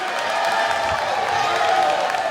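A wrestling crowd in Windsor cheering and applauding for Colby Corino during a championship match, a steady, loud wash of crowd noise with no clear breaks.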